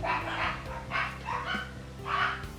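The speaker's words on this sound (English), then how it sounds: "Those are my dogs. I don't know if you can hear them." Several dogs bark in bursts, loud and fairly near, with short gaps between each volley of barks and yips, alone without talk.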